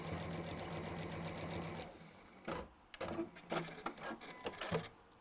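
A sewing machine stitches a quarter-inch seam down a fabric edge, a fast steady mechanical whir for about two seconds, then a few short bursts of stitching, fairly faint.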